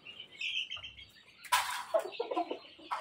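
Gamefowl chickens cluck and chirp at night in a gameyard before feeding, a few soft, close calls followed by a burst of louder squawking clucks.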